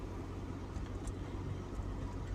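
A car drives along a newly renovated city street in Dąbrowa Górnicza, a steady low engine hum and road rumble heard from inside, fairly quiet and even.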